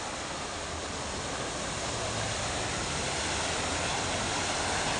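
Steady rushing of water pouring down and flowing in a stream, a continuous broadband roar that stays loud and unbroken throughout, with no voices.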